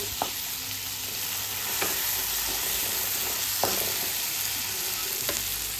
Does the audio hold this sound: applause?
no